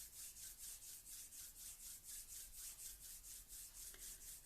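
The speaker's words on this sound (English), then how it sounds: "just activate this energy in your hands by rubbing your palms together" Palms of hands rubbing together, a faint, quiet, rhythmic swishing with about twelve even back-and-forth strokes, alone without talk.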